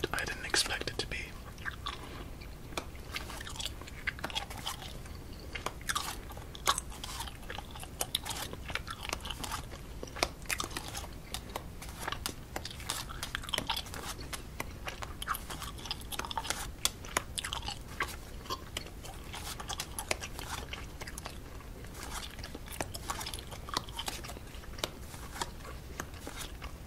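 Gum chewed close to the mic gives steady wet, crackly mouth sounds and small snaps for the whole stretch, with soft whispering now and then underneath.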